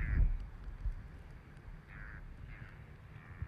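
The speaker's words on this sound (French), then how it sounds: "nous rencontrons un oiseau téméraire qui s'est aventuré trop loin de son nid" A bird calls a few times at a moderate distance near St Brandon, short harsh cries spaced apart over a low rumbling background.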